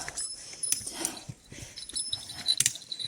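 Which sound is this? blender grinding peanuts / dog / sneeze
dog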